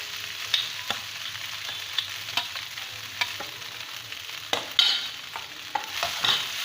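Cooked rice being stirred and mixed in a pan for South Indian lemon rice (chitranna) after the flame is off, with repeated spoon scrapes and soft clicks against the pan over a faint residual sizzle, no talking.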